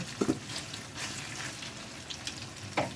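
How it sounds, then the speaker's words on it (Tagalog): Steady sizzling and spattering of milkfish frying in oil in a pan, with a few small clinks and pops. "pritong bangus, matilamsik daw"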